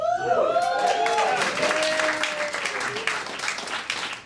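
An audience at a debate forum for a DC Council at-large seat applauds steadily, a dense wash of clapping mixed with talk and a few whoops from the crowd.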